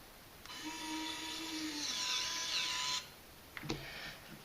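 A LIFEGOO electric screwdriver drives a screw at torque setting 2, giving a steady high whine for about two and a half seconds that cuts off abruptly at the torque limit, followed by a few faint clicks.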